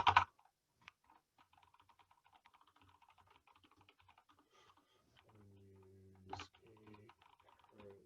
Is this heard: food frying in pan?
no